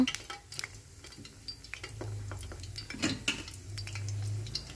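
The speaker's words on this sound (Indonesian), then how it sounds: "langsung saja kita goreng bola-bola ubi ungu panirnya." Purple sweet potato balls coated in breadcrumbs frying in hot oil, with soft crackles and scattered sharp pops over a low, steady hiss, plus faint clinks of utensils.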